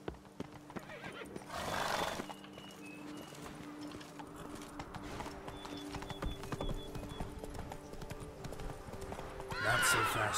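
Roach, a horse in The Witcher 3, gallops with rapid, close hoofbeats, and loud whinnies break out near the start and again at the end.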